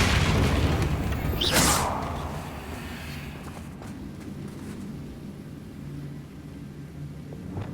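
A Confringo blasting spell explodes with a loud, close boom and burst early on, then a rumbling tail decays into a steady low ambient hum with faint scattered clicks.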